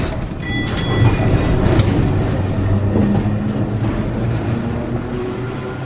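A tram runs along city rails toward Broadway, a steady low rumble with faint rhythmic clatter and a few high squeals from the wheels, fairly near and continuous throughout.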